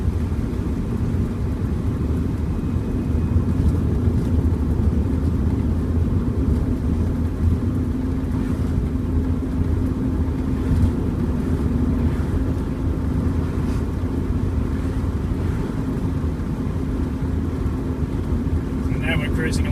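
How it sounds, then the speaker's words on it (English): Turbocharged Subaru EA82T car cruising at a steady 90 with even throttle, a continuous low engine drone and road rumble holding constant throughout, with no talk. "So now we're cruising along at 90"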